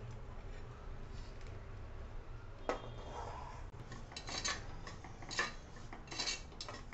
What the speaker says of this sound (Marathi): आता आपलं तूप तापलं की आपण ही भाजलेली कणी यात टाकून घेऊ